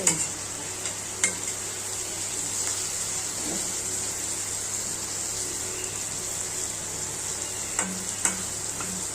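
Fish roe stirred in a frying pan gives off a low, steady sizzle with occasional light clicks and scrapes of a utensil against the pan, heard close and alone.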